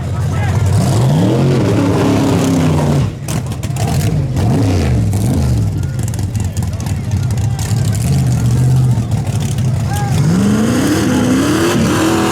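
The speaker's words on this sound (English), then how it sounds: "All right, so Bryan done his burnout" A drag race car is loud and close throughout, its engine revving in rising and falling sweeps with sustained high-rpm stretches and gritty roar as the tyres spin through a burnout, and a voice speaks over the noise.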